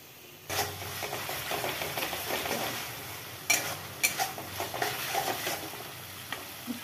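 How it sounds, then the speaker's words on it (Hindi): Mustard seeds roasting in a pan over low heat while being stirred, a steady soft sizzle with scraping and light clinks of a spoon against the metal, close and continuous with no talking. "नहीं तो नीचे लेट जाएगा, चलाना पड़ेगा। और सरसों को हम ज़्यादा भूंजेंगे भी नहीं।"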